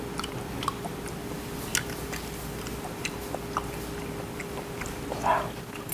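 Live octopus (sannakji) being chewed at a seaside restaurant table in Incheon, heard as close, soft wet squishing and occasional sharp bites over a low steady background hum, with no talking.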